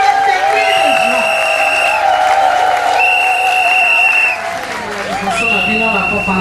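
A church congregation applauds and cheers loudly and steadily as a reverend approaches, while a voice carries over the crowd noise.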